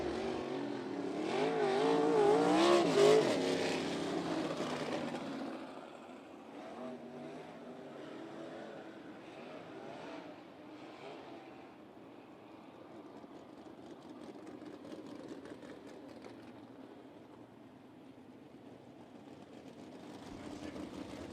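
USAC sprint cars circle the Ocala Speedway dirt track, their engines swelling loudly around the third second, then fading to a faint, distant drone that lingers with slight rises.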